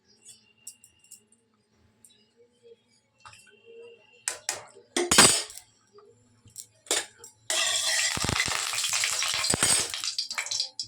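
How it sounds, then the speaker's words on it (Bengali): Vegetables fry in oil in a karai wok. Sparse clinks and utensil clatter come first, then a loud, close, continuous sizzle takes over for the last few seconds. "ফার্স্টে তোমরা একটু আনাজগুলো হালকা করে ভেজে নেবে।"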